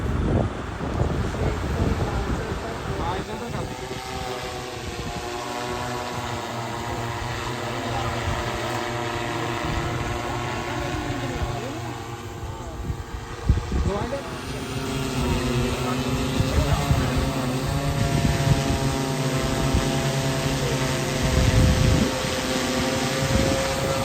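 An agricultural spraying drone flies at a distance over sugarcane fields, its steady motor whine running throughout under heavy wind noise.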